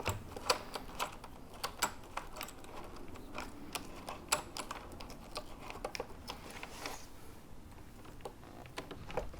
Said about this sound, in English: This will hold the nut in place so I can reach into the fairing and tighten this bolt up